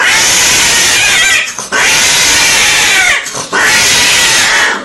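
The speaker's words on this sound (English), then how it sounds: "Now that is the sound of a cat who just got fucked by another cat" A cat caterwauls while mating, a loud, harsh, drawn-out yowling cry repeated three times with brief breaks between, close and strained.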